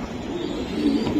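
A racing pigeon coos softly and nearby, a low throaty rolling call in one short burst with no speech.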